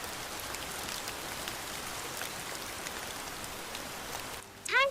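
Rain falling on a village path, a dense steady patter of drops that continues evenly throughout, with a brief bright chirping sound breaking in at the very end.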